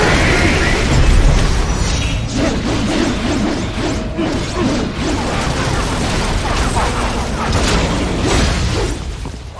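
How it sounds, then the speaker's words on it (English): Heavy plasma cannon blasts boom through a fight in the video game Metal Gear Rising: Revengeance, loud repeated crashing impacts and bursts layered over each other for several seconds. "They swapped out the hydraulic cutter for a plasma cannon."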